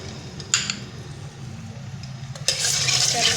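Ginger and halved green chillies hit hot oil and burst into a sharp sizzle and crackle, rising abruptly twice into a louder, steady frying hiss close by.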